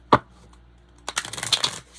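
A deck of tarot cards gets a brief, close riffle shuffle: a single tap, a pause, then a quick fluttering burst of card edges lasting under a second.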